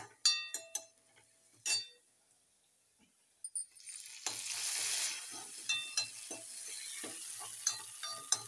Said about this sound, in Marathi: बघा माझा कांदा तोपर्यंत लाल झाला.